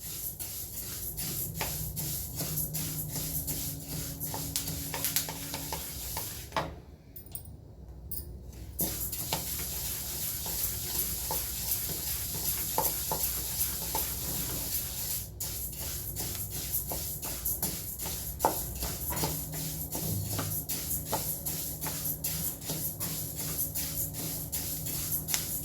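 Flax seeds dry-roast in a pan with dense, continuous crackling and tiny pops over a soft hiss, briefly dropping to near silence before resuming steadily. The sound stays close and fairly quiet, with no speech.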